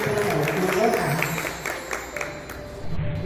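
Applause from an audience at a teacher training session on school reading mediators, a dense patter of clapping holding steady for a few seconds and tapering slightly, with a voice faintly present underneath.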